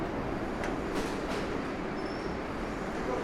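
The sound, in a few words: subway train in station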